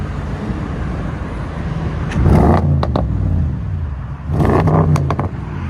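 Audi S7 with a 4.0L twin-turbo V8 and modified exhaust revs loudly in two bursts that climb and hang at the rev limiter, nearby outdoors over a steady idle rumble.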